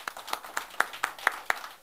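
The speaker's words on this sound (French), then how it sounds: "ce charmant public qui mérite encore des applaudissements." A few people clap in a slow, sparse rhythm of about eight distinct, fairly close hand claps spread evenly, acknowledging a production team, with no talk over them.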